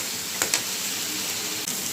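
Halved potatoes sauté in a pan for a home-cooked prawn curry, giving a continuous, even sizzling hiss. A couple of faint clicks near the start break through the steady frying.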